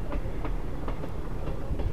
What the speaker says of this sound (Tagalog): Kaya nga, yun, may tren dumaan o.